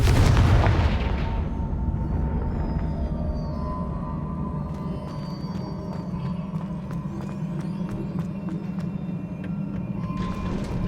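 A Confringo blasting spell detonating in Hogwarts Legacy on Switch, with a heavy booming explosion at the start that fades into a steady low rumble, joined later by faint rapid ticking clicks.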